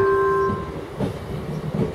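A train sits at a railway station platform in Mladá Boleslav on a České dráhy line, heard as loud, close rumbling and clanking with a brief tonal horn-like note at the start.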